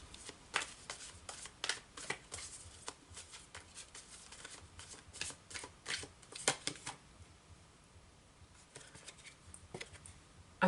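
Tarot cards are shuffled and drawn in a quiet room, producing a long run of soft, crisp riffles and slaps, with brief pauses between bursts and a final sharp snap at the end.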